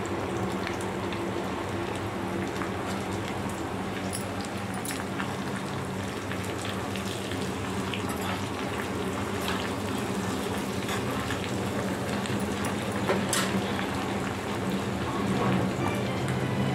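Garlic, curry leaves and mustard seeds crackling steadily in hot tempering oil, a continuous dense sizzle and popping with no speech.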